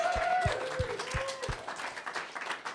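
Small audience at a live comedy show at the Museum of Comedy in London applauding, scattered claps that start fairly close, then thin out and fade to a lighter patter.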